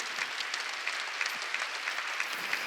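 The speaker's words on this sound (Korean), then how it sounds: "박수를 치라고" A church congregation claps together during a Korean New Year's Eve worship service, a dense, steady patter of many hands at moderate distance, continuous with no voices on top.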